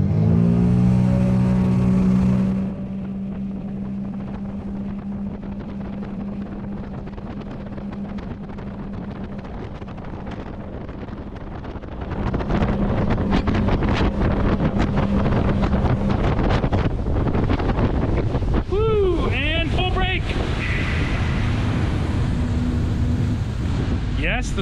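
A Sea-Doo Switch Sport 18-foot pontoon boat's 230-horsepower engine starts low, then roars up into a loud sustained drone at top speed, with heavy wind buffeting the microphone and brief squealing near the end.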